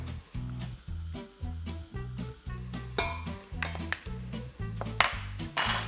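A utensil stirs curry powder in a pan, giving repeated rhythmic metallic scrapes and clinks against the metal with a faint sizzle underneath.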